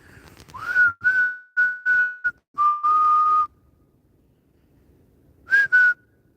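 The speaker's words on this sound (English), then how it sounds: "That's about as loud as I can whistle." A person whistles outdoors in a series of short, loud, clear notes with gaps between them, followed by a pause and a final brief pair of whistles, heard alone without speech.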